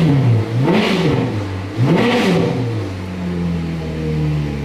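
A Ferrari F430 being rebuilt after crash damage revs twice in quick succession, each rise and fall of the engine loud and close, then settles back to a steady idle.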